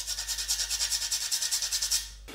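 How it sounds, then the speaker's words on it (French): Fresh whole nutmeg grated for a pumpkin dish, a steady run of about twenty quick rhythmic rasping strokes, close and clear with no talk, ending abruptly. "Et de la noix de muscade qu'on va râper fraîchement parce que j'adore ce son."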